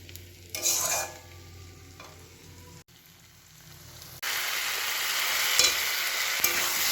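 Potatoes sizzle and fry in a pan while being stirred, with scraping strokes and a steady hiss that swells louder partway through. No voices.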